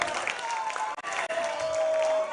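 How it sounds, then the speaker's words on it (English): A crowd applauds steadily, with a voice speaking over the clapping throughout. "A round of applause for Nana."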